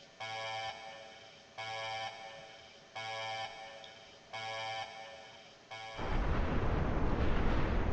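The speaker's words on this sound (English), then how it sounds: "now he's exploded himself and your screen will turn all white" A self-destruct sequence in a Roblox game: four evenly spaced beeping alarm tones, then a loud, sustained roaring explosion that fills the rest of the stretch.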